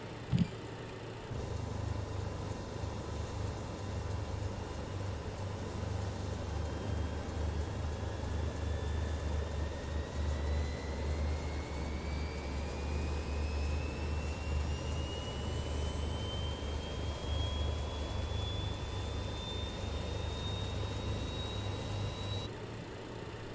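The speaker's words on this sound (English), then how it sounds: "come next to engine number 4 here for the startup" Engine number 4 of a jet in Microsoft Flight Simulator spools up during startup, a steady roar with a rising whine climbing slowly over some twenty seconds, close and alone.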